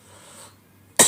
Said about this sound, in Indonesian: Batuk-batukan.